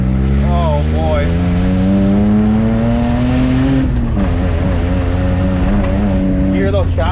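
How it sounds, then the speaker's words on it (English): A Mitsubishi three-cylinder Japanese mini truck's exhaust, a steady, close engine drone with rising and falling harmonics as it revs, carrying on throughout, with people talking over it. "You hear those chopsticks flying out of the exhaust? Yeah. It's a 3-cylinder Mitsubishi."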